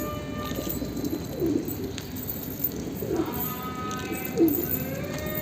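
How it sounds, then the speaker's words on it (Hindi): Several pigeons cooing softly in a loft, low murmuring coos repeating at intervals over a steady ambient background, with a brief faint bird call. "बाकी कबूतर आ गए।"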